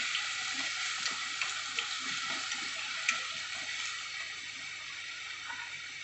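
Sliced onions sauté with salt in a pan for a Kerala-style onion curd curry. A faint, continuous hiss of frying runs throughout, with light stirring scrapes and a few soft clicks.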